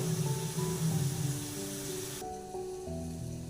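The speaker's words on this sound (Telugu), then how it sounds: "ఇలా 2 నిమిషాలు వేయించాలి." Prawns, already fried and rinsed in hot water, sizzle and crackle steadily in a hot pan, a continuous close hiss with no talk over it.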